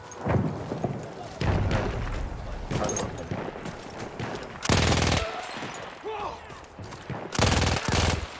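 Gunfire from Battlefield 1 rattles in heavy bursts and rapid volleys, loud and close, with game voices talking over and between the shots.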